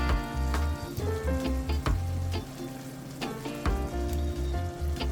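Seasoned snapper fish frying in a hot pot for a coconut milk dish, with a continuous crackling sizzle and occasional sharp pops and clatters from the pot, loud and close, no voices.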